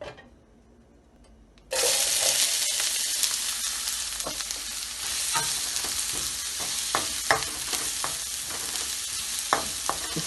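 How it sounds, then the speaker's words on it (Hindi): Onions hitting a modest amount of oil (about three tablespoons) start a sudden, steady sizzle after a quiet opening, with scattered stirring clicks and scrapes across the pan. "तेल हो जाए तो फिर हम प्याज डालेंगे।"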